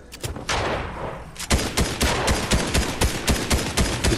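Rapid SMG gunfire in a video game, dense bursts of sharp shots in quick rhythmic succession, loud and close after an opening volley.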